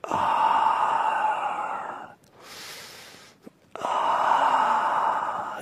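A long, breathy exhale swells between louder airy sounds, with a brief pause and a small click in the quieter middle stretch.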